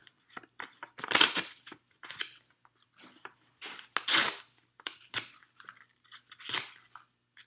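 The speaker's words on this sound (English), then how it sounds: "I kind of like ripping the paper." Paper being ripped up by hand for a cardboard box aquarium craft, a series of sharp, close tearing rips in irregular bursts with brief quiet gaps between them.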